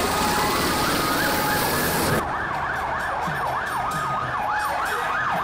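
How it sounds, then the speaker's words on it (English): Emergency vehicle sirens wail at a Mexican Independence Day parade, a loud wavering up-and-down tone that speeds into a rapid yelp partway through, close by amid crowd noise. "Sirens going."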